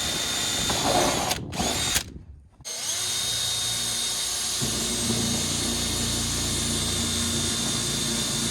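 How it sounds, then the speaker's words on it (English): A carbide drill bit bores through a plastic mud fender being fitted to a 2015 Honda Foreman ATV, giving a loud, steady whine that stops briefly twice early on, then runs continuously to the end. "think a carbide drill bit would drill super easily through plastic, but it actually takes something."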